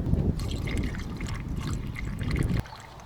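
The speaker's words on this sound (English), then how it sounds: "let's go ahead and fill it up with water" Water pouring steadily into the radiator of a Suzuki Jimny JA22W, a gurgling, splashing flow that stops abruptly near the end.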